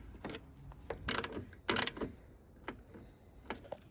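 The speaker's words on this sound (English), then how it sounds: "Now we'll tighten these up." A ratchet tightens the front bumper bolts on a 2016 Tesla, giving close, quiet mechanical clicks with a few sharper clusters of ratcheting and knocks, and no talking.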